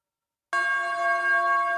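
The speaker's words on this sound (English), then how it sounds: "This is church bells." A synthesized church bell from an iPad synth app strikes once after half a second of silence, ringing on with a clear, steady, bright metallic tone.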